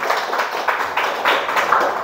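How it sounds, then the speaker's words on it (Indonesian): Applause from attendees at a media company's work meeting, a steady dense patter of hand claps lasting about two seconds with no speech over it. "Tepuk tangan untuk kita semua"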